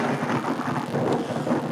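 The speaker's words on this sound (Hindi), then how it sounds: "अब भगवत प्रेमियों आकाश में बादल गरज रहे" A sound effect of heavy rain and rumbling thunder plays as one dense, continuous wash of downpour with a low thunder roll underneath, loud and steady throughout.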